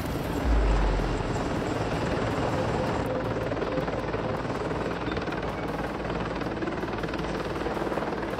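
An AH-64 Apache attack helicopter's rotor thumps steadily with a loud, continuous engine roar, close and unbroken throughout.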